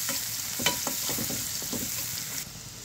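Chopped onion frying in a little leftover oil in a pan, a steady close sizzle with several light stirring scrapes, the hiss dropping slightly near the end.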